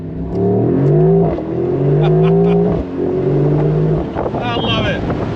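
A 2024 Mercedes SL63 AMG engine revs in several loud rising and falling pulls close by, each rev climbing then dropping back, ending in a rougher burbling stretch.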